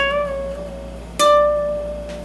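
A single guitar note is picked and bent up and down. A second pick comes about halfway through and lands on a D that rings clearly and decays slowly. The playing is close and moderately loud, and no one speaks.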